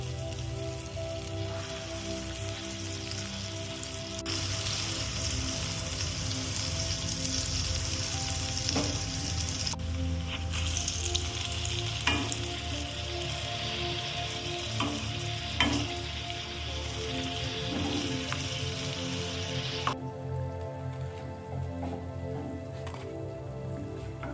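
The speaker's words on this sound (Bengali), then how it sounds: "তেলটা চলে এসেছে এরপরে আমরা বড়াগুলোকে ফ্রাই করে নেব" Doi bora lentil fritters fry in hot white oil in a kadai, a loud, dense and continuous close sizzle with occasional stirring clicks and crackles, and no one speaking.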